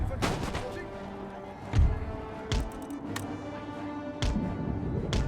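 Line infantry muskets fire in Empire: Total War, sharp cracks and booming volleys spaced irregularly across a busy battle din, with someone speaking over parts of it.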